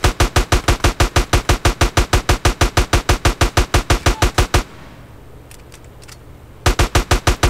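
Rapid automatic gunfire from GTA San Andreas rattles in a loud, steady burst of evenly spaced shots, breaks into a short lull of low background noise, then resumes firing at the end.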